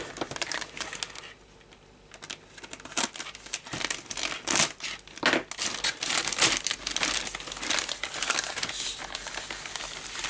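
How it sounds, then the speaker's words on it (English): The plastic bag of an Airfix Messerschmitt Bf109 model kit is handled and opened, giving close, irregular crinkling and rustling bursts with a few sharper crackles. "open up the kit bag"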